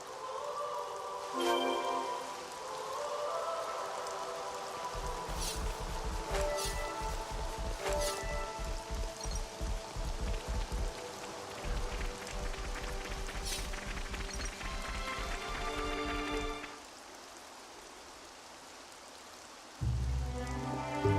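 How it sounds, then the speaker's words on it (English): Rain falling in Xenoblade Chronicles 3: a steady hiss of patter over game music, thinning out briefly near the end before returning. "Rain. I hope it won't slow us down too much."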